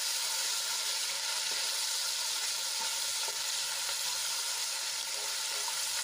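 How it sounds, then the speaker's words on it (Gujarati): Continuous loud sizzling from a hot pan as ginger, garlic and chili paste fries, a dense crackling hiss with occasional stirring scrapes. "આદુ લસણ અને મરચાંની પેસ્ટને આપણે સાંતળી લઈશું"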